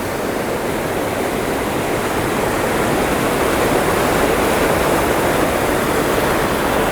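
Heavy rainwater torrent roaring beneath a bridge with a metal grid walkway after winter rains, a loud, steady broadband rush of falling and churning water that holds constant for the whole stretch with no voices.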